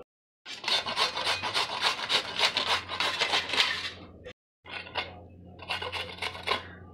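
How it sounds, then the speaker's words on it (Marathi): Raw mango, peeled, being grated by hand into shreds: a steady, rhythmic rasping scrape in quick repeated strokes, close and fairly loud, with a brief pause before the grating resumes. "सगळी कैरी छान किसून घेतलेली आहे"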